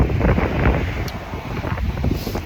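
Strong wind buffets the microphone outdoors on a cold Massachusetts morning, a loud, continuous low roar with gusty swells and no clear speech over it.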